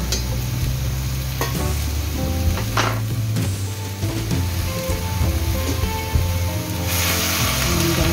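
Beef with mushrooms being tossed in a pan (kawali), a loud continuous sizzle under busy scraping and stirring, with a low background hum and occasional clanks of the utensil.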